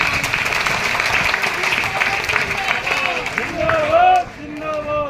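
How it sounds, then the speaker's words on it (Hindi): Audience applause at a student felicitation ceremony in Sabalgarh, Morena, a dense steady wash of clapping across the whole clip, with a few raised voices and calls rising over it near the end. "एक बार जोरदार तालियां बजा दें।"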